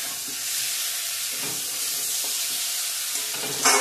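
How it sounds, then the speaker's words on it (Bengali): Spices frying in oil in a pan for a katla fish curry with potato and pointed gourd, a steady close sizzle and hiss with occasional stirring scrapes, ending in a sharper burst of spattering. "ভালো করে ভেজে নিয়েছি মশলার সঙ্গে"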